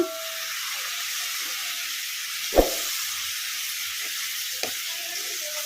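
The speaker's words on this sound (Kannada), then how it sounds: "ಇದನ್ನು ಮೀಡಿಯಮ್ ಫ್ಲೇಮಲ್ಲೇ ಫ್ರೈ ಮಾಡ್ಕೊಂಬಿಡೋಣ. ಪಾಲಕ್ ಸೊಪ್ಪು ಮೆತ್ತಗಾಗೋವರೆಗೂ ಫ್ರೈ ಮಾಡ್ಕೊಂಬಿಡೋಣ." Chopped palak spinach frying over a medium flame in a pan for sambar, a steady soft sizzle and hiss with a couple of brief stirring knocks.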